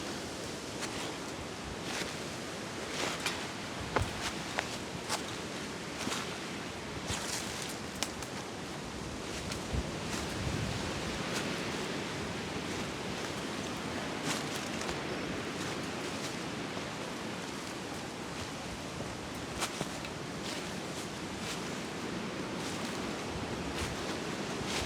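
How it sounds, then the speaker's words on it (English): Strong wind roars continuously in the Scottish Highlands, a broad rushing noise with occasional gusty buffets and crackles, no voices. "Very windy."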